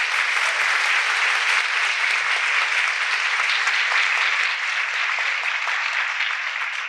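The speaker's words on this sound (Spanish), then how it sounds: "El mayor aplauso" Sustained, dense applause from a large crowd at a Catholic religious gathering, steady and loud throughout with no pauses.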